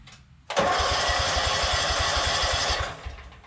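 Starter cranking the engine of a Yazoo Kees ZT Max 42-inch commercial zero-turn mower, a steady close whirring churn with a rhythmic low chug that runs for about two seconds and stops without catching.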